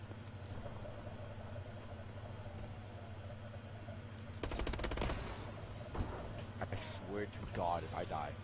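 Rapid bursts of Call of Duty: Advanced Warfare gunfire crackle in from about the midpoint over a steady game hum, with a player's voice joining near the end.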